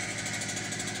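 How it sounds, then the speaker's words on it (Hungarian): A generator engine runs steadily on a property where flooring work is underway, a close, loud, even drone with no pauses and no voices. "az agregátor hagy menjen, mert elég nehezen indult"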